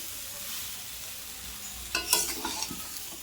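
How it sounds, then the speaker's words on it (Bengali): Soft background hiss, then a burst of stirring and scraping of mango pieces with salt and turmeric in a pan with a light sizzle, several short clatters in the last second and a half. "হলুদ লবণ দিয়ে আমগুলো ভালোভাবে ভাজা হয়ে গেছে।"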